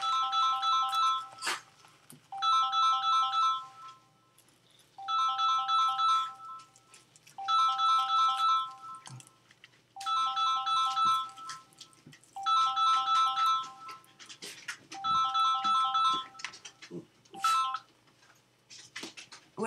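A phone ringtone plays in repeated electronic bursts of about two seconds each, with short gaps between them, at moderate volume. There is faint background movement and no speech during the ringing.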